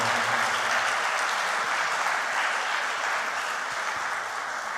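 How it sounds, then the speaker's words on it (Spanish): Church congregation applauding for the Lord, a dense, steady wash of clapping from many hands, loud and continuous throughout with no talk over it. "Le das un aplauso al Señor."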